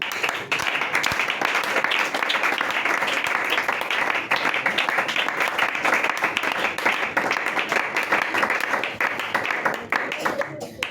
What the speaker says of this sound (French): Vous pouvez acclamer pour le frère Clem.